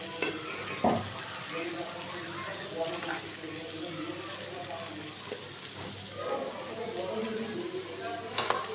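Boiled potato and vegetables fry in a pan, giving a steady soft sizzle with occasional stirring scrapes and clinks. It is fairly quiet and close up, with faint speech now and then.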